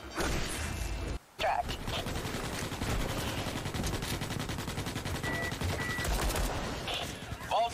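Automated turrets exchange sustained automatic gunfire with each other in Fallout 76, with rapid continuous bursts over several seconds, one brief gap, and a faint voice underneath.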